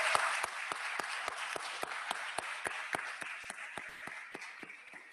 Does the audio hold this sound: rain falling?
no